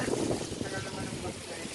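Strong wind buffets the microphone in a steady, loud broadband roar outdoors, with a voice partly heard beneath the gusts.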